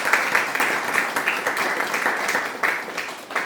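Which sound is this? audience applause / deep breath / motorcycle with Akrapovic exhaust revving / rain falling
audience applause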